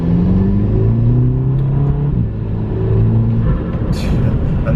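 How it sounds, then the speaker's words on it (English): A VW Golf Mk5 GTI drives with a steady, loud engine drone and rising revs heard from inside the car, a brief higher flutter-like burst near the end, and no talking. "Like the turbo flutters and all that, it's just lovely, just lovely noises"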